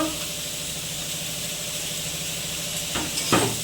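Fried potatoes, figs and prawns sizzle in a pan, a continuous soft hiss with a low hum beneath, ending in a couple of louder stirring scrapes near the close.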